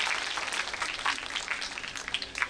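An audience applauds the teachers at a patriotic singing competition in Delhi, a dense, steady wash of clapping that stays fairly soft and distant throughout, with no voices on top.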